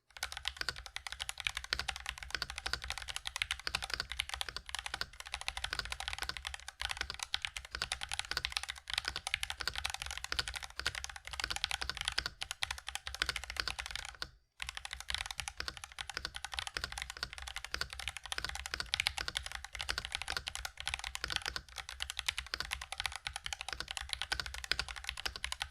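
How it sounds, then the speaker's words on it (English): Continuous close-up typing on a Gamesense Clutch keyboard fitted with stock Gateron yellow switches, a steady dense stream of keystroke clacks that keeps going for the whole stretch, with only a momentary pause partway through. "here's a stock typing test so you guys can hear how it sounds"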